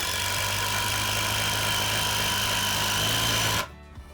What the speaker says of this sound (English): you do have to press quite firmly with the impact driver for it to work